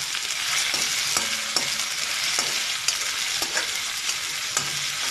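Onion fries in oil with a constant bright hiss and crackle, punctuated at intervals by soft taps and scrapes of a spoon stirring in the pan.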